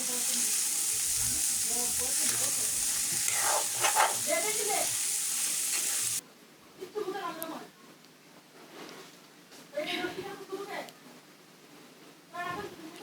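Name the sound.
frying and stirring soaked chickpeas in a pan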